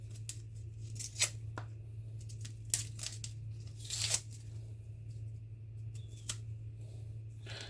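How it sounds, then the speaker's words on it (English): Dry onion skin being peeled by hand in a kitchen, giving a few soft crackling tears and crinkles, close and quiet, spread out over a low steady background hum with no talking. "Peel the skin."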